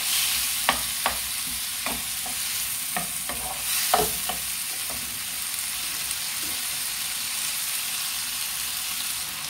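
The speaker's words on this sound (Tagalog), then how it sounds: "lutuin natin yung tomato bago ilagay yung chicken" Tomatoes sauté in a pan for adobong sitaw before the chicken goes in, a steady hissing sizzle with a cluster of sharp spoon clacks and scrapes early on that then fade into continuous frying alone.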